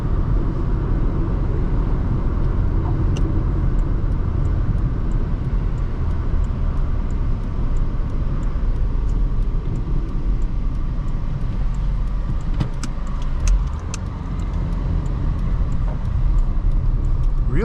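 A 2006 Honda Accord SE with a five-speed manual, heard from inside the cabin as it drives and turns around, a steady low engine and road drone filling the interior with little variation and no talk.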